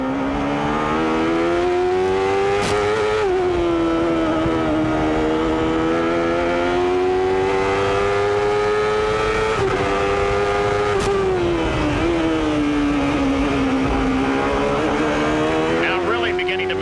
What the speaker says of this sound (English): Squeezing every horsepower out of that Chevrolet engine trying to catch Mansell.